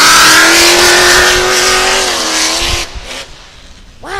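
A race car engine revs at high pitch, loud and close, then its sound drops away, ending in a brief rising whine.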